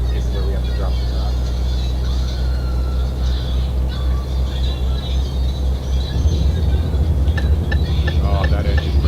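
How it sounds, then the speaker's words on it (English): A heavy truck's engine brake in Euro Truck Simulator gives a loud, steady low rumble that swells for about nine seconds with no pause, while someone talks over it. "Oh, that engine brake. What a great noise."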